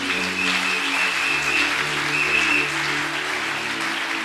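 A church congregation applauds, a dense, steady wash of clapping from many hands in a large room, with faint sustained tones and murmurs underneath.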